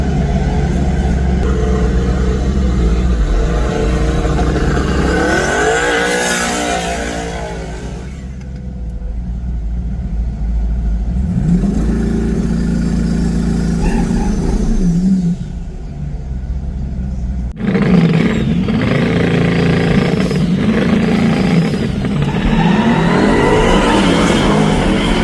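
A 1969 twin turbo Chevelle with a 404 cubic inch LS drag races a twin turbo Corvette E-Ray at a no prep event in Texas, loud roaring engines revving and accelerating hard with a steady rumble that surges throughout.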